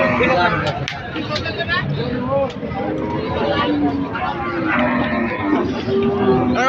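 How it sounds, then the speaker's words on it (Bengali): Many cows at Hazratpur haat, a crowded Qurbani cattle market, moo repeatedly close by over a constant babble of crowd voices. People also talk nearby. "আজকে কিন্তু প্রচুর গরু আইছে দেখেন এই লাইনে ওই লাইনে প্রচুর গরু"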